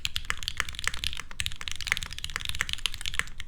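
Brisk typing on a pea yellow Singa Unicorn R2.1 mechanical keyboard, a steady stream of crisp close-up keystrokes with sharp clacks and an even rhythm, with no voice over it.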